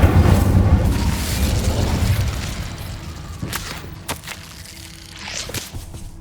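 The Incendio fire spell cast in Hogwarts Legacy: a loud, booming fiery burst that rumbles and fades over a couple of seconds, followed by a few softer thumps and pops.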